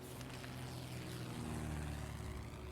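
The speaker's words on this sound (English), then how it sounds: "I literally hear a plane above me." A faint, steady propeller-plane drone hums overhead in the video game 60 Seconds Reatomized, low and continuous without rising or fading.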